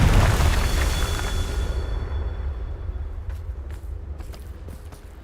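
A loud Confringo blasting-spell explosion in Hogwarts Legacy bursts at the start with a deep rumbling boom, then decays over several seconds into a low lingering roar with a few faint footsteps and clicks.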